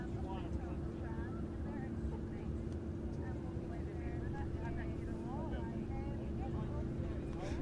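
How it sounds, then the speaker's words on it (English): A propeller aircraft approaching at an air show: a steady, loud engine drone that holds throughout under a continuous stream of commentary. "I can hear the propeller."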